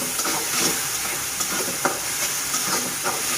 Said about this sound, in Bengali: কাঁচামরিচ, রসুনটা আমি একটু ভেজে নেব।